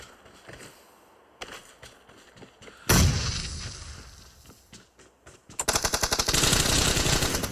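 PUBG Mobile gunfire, scattered single shots early, then a loud burst, then a sustained rapid automatic volley close and loud to the end, no talk.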